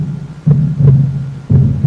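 A horror-footage heartbeat sound effect: deep, muffled low thuds pulse about a second apart over a steady droning hum, loud and close with no voices.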